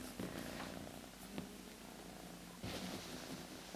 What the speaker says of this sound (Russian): Что это за мурчун такой?